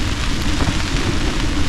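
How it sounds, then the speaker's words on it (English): Heavy rain and a gale-force wind battering a camping tent in cold weather, a loud, dense, continuous roar with no pauses and no voices. "raining, blowing a gale"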